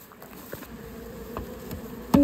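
Honey bees buzz at a beehive during beekeeping work: a soft, continuous insect hum with a few brief, louder fly-bys close to the listener, and no talk.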